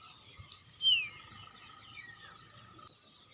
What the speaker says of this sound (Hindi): कुछ पंछी यहाँ घुसे हैं खेतों में